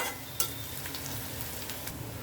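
Steady sizzle of onions frying in hot oil for a mustard hilsa dish, with a faint clink and occasional stirring scrapes, close up and fairly quiet.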